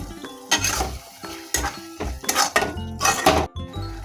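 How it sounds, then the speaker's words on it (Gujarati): Khichdi masala being stirred and mixed in a pan with coriander-cumin powder, turmeric and salt, giving repeated bursts of scraping and clinking of a utensil against metal over a light sizzle, close and clear with no talking. "હવે મિક્સ કરી લઈએ."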